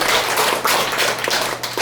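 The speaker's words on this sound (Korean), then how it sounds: "우리 박수 한번 칠까요?" An audience at a company's first-anniversary event claps together in a loud, dense burst of hand claps that lasts under two seconds.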